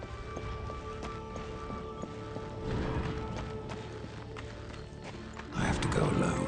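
Rhythmic horse hooves clip-clopping in the video game Darksiders 2, steady and fairly close under a layer of game music and ambience, swelling louder near the end.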